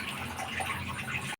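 Water pours into a curry pan of mustard-based kankana and potato curry, giving a steady splashing gush close by that cuts off abruptly at the end, with no talk.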